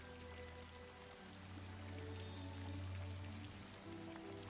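Steady cartoon rain falling as a continuous, even patter with a low rumbling undertone, moderately quiet and without any voices.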